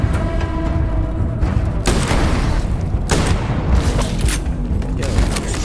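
Gunfire in the video game Starfield rings out as several loud, booming shots and short volleys, spaced a second or so apart over steady game background noise.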